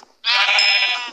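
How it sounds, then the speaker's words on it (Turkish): A single sheep bleats in the Minecraft video game, one clear, loud call lasting about a second with no talk. "Aha koyun buldum."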